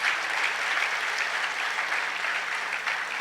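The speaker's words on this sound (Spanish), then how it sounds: "Dale un aplauso fuerte al Señor." A church congregation bursts into loud, sustained applause, a dense steady clatter of many hands clapping together throughout, with no voices standing out above it.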